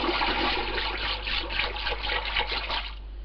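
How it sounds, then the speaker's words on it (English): Pottery glaze mixture being stirred by hand in a container, a steady sloshing, swirling liquid sound up close, continuous for about three seconds and then easing off at the end. "So it all needs to be mixed. So give that a good stir."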